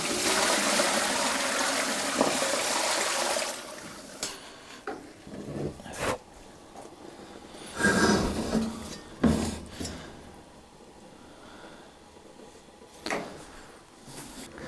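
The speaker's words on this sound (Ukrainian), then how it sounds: "і тепер заливаємо водичкою" Water poured into a pot over a pork head, a broad hissing rush for the first few seconds, then scattered splashes, clunks and handling noises at close range with no talk.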